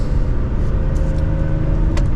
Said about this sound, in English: let's give it a little bit of gas in this manual and go through these gears a little bit. So this is about half throttle.